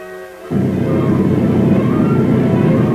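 An aircraft on a record-setting high-altitude speed flight roars as a steady, loud engine drone that starts abruptly after a brief lower hum and holds constant to the end.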